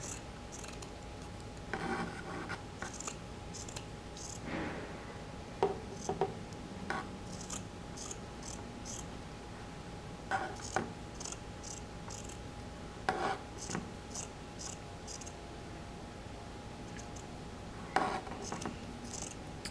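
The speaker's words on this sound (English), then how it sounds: "we're going to get our scissors and we're going to cut strips." Scissors cut strips in fabric from a t-shirt for a DIY book bag, a run of soft, repeated snipping and rasping cuts over a steady low background hum, close by, with no voices.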